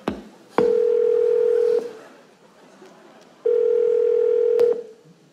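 A telephone plays its call tone while a call is being placed: two long, steady beeps, each over a second, separated by a gap of near silence, with faint background noise.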